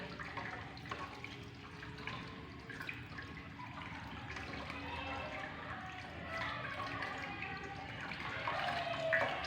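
Tap water runs steadily, splashing over hands in a sink, continuous and close, with no talking.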